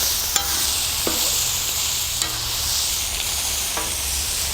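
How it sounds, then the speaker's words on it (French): Veal chop and mushrooms sizzle on a hot plancha, a steady close hiss with a few sharp ticks and spatula scrapes, heard alone without talk. "La cuisson de veau avance bien."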